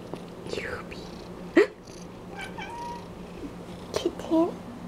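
A pet cat making short meow-like vocal calls indoors, a few brief cries scattered through the moment, with a person talking nearby.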